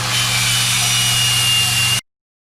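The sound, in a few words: drill with wire cup grinding rough spots on grill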